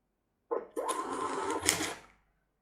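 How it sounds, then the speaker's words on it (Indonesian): A Janz PT250 thermal receipt printer for a restaurant cashier system runs a fast print job: a brief whir, a short pause, then a steady buzzing rattle lasting over a second before stopping, close and clear. "Perhatikan bahwa printer akan mencetak dengan kecepatan yang cukup tinggi ya."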